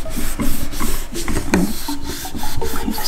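A glued sign is rubbed by hand onto a deco mesh witch hat wreath, giving close, scratchy rasping strokes in an uneven rhythm.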